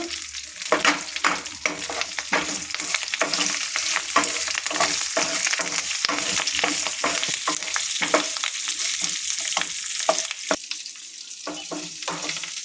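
Green chillies frying in oil crackle and sizzle loudly and close by, with frequent sharp pops and stirring scrapes over a steady hiss, with no talking.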